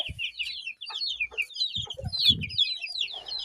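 Hens cluck repeatedly up close, short throaty calls in irregular bursts, with thin high chirps scattered throughout.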